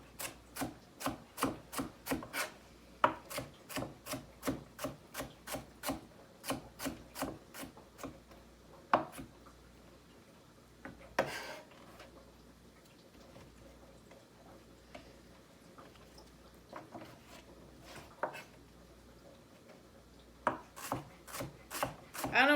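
A knife slices vegetables thinly on a board for soup, a close run of quick rhythmic chopping taps in bursts, pausing midway before the steady cutting resumes toward the end.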